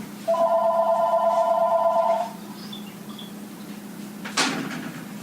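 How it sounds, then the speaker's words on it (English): A telephone rings once in a kitchen, a steady electronic tone lasting about two seconds, followed by quiet room noise and a brief knock. "the phone won't stop fucking ringing"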